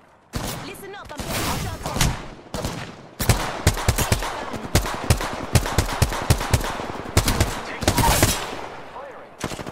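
Rapid automatic gunfire in the Apex Legends shooter, dense bursts of close, loud shots with short pauses between volleys, continuing throughout with game voices occasionally mixed in.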